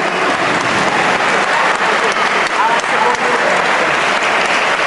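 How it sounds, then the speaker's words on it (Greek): Loud, sustained audience applause fills a bodybuilding posing show, dense continuous clapping from a packed crowd with no break across the whole stretch. "ένα χειροκρότημα, παρακαλώ"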